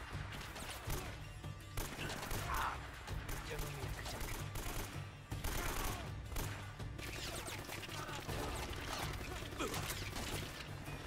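Gunfire from the Uncharted: Drake's Fortune video game: bursts of automatic shots and single cracks repeat over a dense in-game soundscape of mechanisms and impacts, all at moderate loudness.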